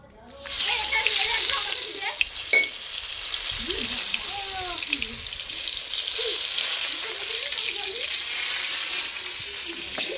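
Brinjal slices frying in hot oil in a wok, a loud continuous sizzle that starts abruptly and stays close, with faint voices talking underneath.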